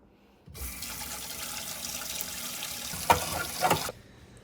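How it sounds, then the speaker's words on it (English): Warm soapy water runs from a faucet into a sink while meat grinder parts are washed, a steady close rush lasting about three and a half seconds with a couple of brief clinks and knocks near the end. "take that grinder apart and clean all the parts with soapy water, warm soapy water"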